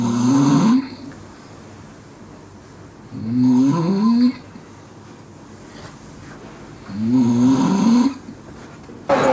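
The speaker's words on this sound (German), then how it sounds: "weil so ein scheiß Engländer bei uns im Zimmer mega geschnarcht hat" A man snores loudly in a hostel room: three long, rasping snores spaced a few seconds apart, close to the microphone, with quiet room tone between them.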